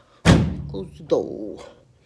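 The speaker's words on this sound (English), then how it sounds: "You just close the door" Dryer door pushed shut, a single close heavy thud followed by a softer second knock as it settles, alone with no talk.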